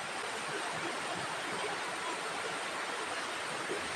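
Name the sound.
flowing river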